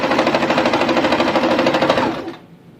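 A Singer sewing machine stitches fabric rapidly in a steady buzzing rhythm for about two seconds, then stops abruptly.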